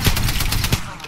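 A Spitfire machine gun firing in a video game: a rapid, loud run of evenly spaced shots with heavy low thumps, close and continuous for about a second.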